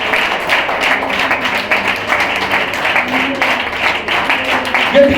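A church congregation claps hands rhythmically during a Telugu and Hindi sermon, a steady beat of repeated claps at a brisk even tempo, heard under a voice speaking.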